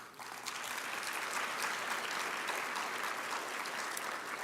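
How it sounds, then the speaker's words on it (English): An audience at a school district Teacher of the Year awards event applauds a congressman in attendance, a dense, steady patter of many hands clapping that swells after a brief start and carries on evenly. "If we give applause."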